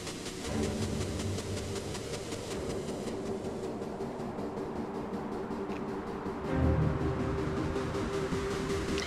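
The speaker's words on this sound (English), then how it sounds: "The train was supposed to come in today!" A train arriving in the video game Crimson Spires, a steady rumbling rail roll with hissing steam, continuous and fairly loud, swelling with a heavier thump near the end.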